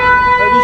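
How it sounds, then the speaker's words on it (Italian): An ambulance siren sounds on a Paris street at night, a loud sustained tonal wail amid city traffic noise, briefly heard up close. "Ah, ambulanza."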